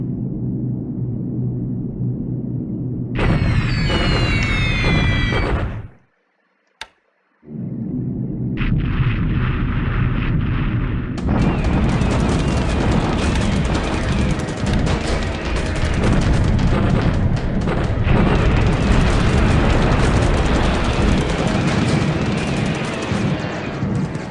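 Six 500-pound bombs strike an airfield in War in the Pacific Admiral Edition, producing loud, rumbling blasts: a long roar, a sudden drop to near silence, then renewed heavy explosions and a sustained thundering rumble, with no talking.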